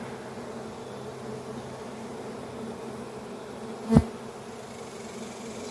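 Honey bees hum continuously around an open hive during an inspection, a steady, moderately loud buzz with one brief louder knock partway through and no voices.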